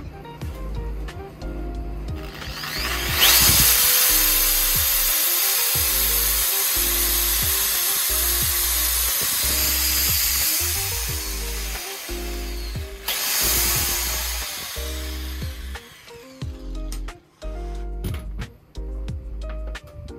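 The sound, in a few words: electric grinder running on a Bluetti Elite 100 v2 power station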